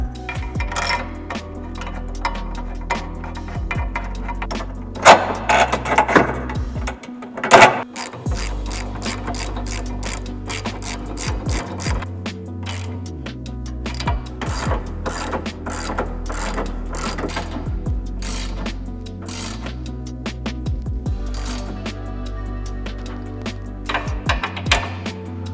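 A ratchet drives two 15mm bolts home on ISC adjustable toe arms of a 2022–2023 Ford Maverick, giving close, rapid bursts of clicking between pauses, with a few metallic clanks and no talking.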